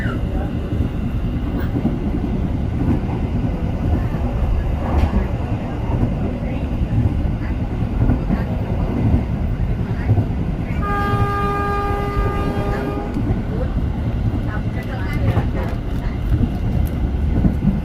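A Commuter Line Blorasura train runs on rails toward Lamongan station, giving a loud, steady rumble and rattle throughout. About two seconds of a horn sound midway.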